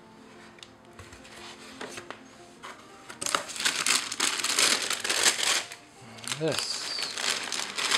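Crinkly packaging rustles and crushes while a pair of cheap gray Nordstrom Grayson chukka boots is unboxed. The handling is dense and close in the middle, and a voice speaks briefly.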